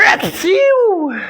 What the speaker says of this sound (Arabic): انا عطست دلوقتي يا جماعه.